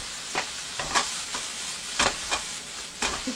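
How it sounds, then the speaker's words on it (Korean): Chives stir-fried in a frying pan with seasoning, salt and sesame oil: a constant soft sizzle runs under sharp, irregular spatula scrapes and tosses, heard up close with no voices. "부추 하얀 부분 먼저 넣어서 살짝 볶으시고 파란 부분 넣으시면서 나머지 양념 넣어주세요"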